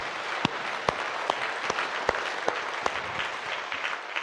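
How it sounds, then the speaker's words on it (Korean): A church congregation applauds steadily, a dense wash of clapping with a few sharper individual claps standing out, moderately distant. "우리 하나님께 감사 박수 합니다."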